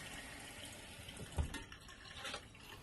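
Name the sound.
water running through RV in-line water filters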